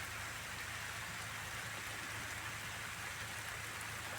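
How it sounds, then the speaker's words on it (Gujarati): Steady rain falls on a farm field, a dense, even hiss of drops with no breaks, faint and distant-sounding throughout, with no voices. "સારો આવ્યો વરસાદ, જુઓ તમે"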